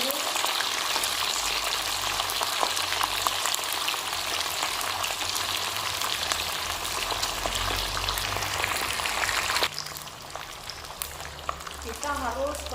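Fish frying in a pan for a sambal dish, a loud, constant crackling sizzle that drops in intensity near the end, with a little stirring or handling noise.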